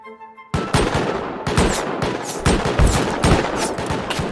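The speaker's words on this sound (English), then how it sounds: "Oh my god, they're shooting me" Close, loud bursts of gunfire in the survival video game Rust during a base raid, with rapid repeated shots in uneven clusters, heard alone with no talking.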